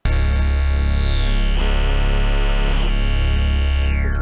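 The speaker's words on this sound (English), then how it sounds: "What you're hearing is the feedback of the actual waveform changing as I press harder on the keyboard." Arturia MatrixBrute analog synthesizer playing a sustained patch with aftertouch modulation, its waveform and feedback shifting as keys are pressed harder; a loud, continuous, gritty tone with sweeping high overtones and pulsing changes, no voices.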